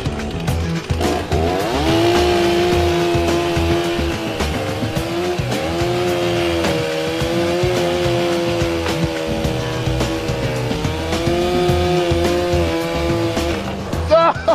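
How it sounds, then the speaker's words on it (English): A chainsaw cuts through pipe inside a railway tunnel during track drainage work, its engine droning loud and steady with rising and falling pitch, accompanied by constant mechanical noise throughout. "oh, I can hear the chainsaw"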